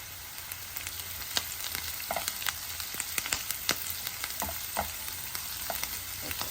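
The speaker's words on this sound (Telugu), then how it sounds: "ఉల్లిపాయలు ఇలా వేగుతున్నాయి కదా ఇందులో కొద్దిగా పసుపు వేసుకున్నాం" Sliced onions with turmeric fry in a pan, a steady sizzle broken by frequent sharp clicks and scrapes as a spoon turns them, close and moderately loud, without speech.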